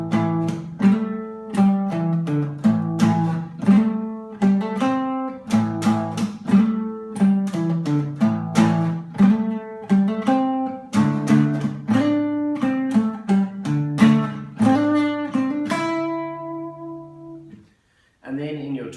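Guitar playing a 12-bar blues pattern built on the pentatonic scale in A, with steady, rhythmic plucked notes and chord stabs, loud and close, ending in a held ringing chord and a brief pause.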